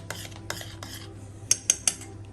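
Metal utensil scraping and clinking in a bowl, mixing a pinch of salt and pepper into a croque monsieur mixture; several soft scrapes followed by three sharp close clinks, with no talking.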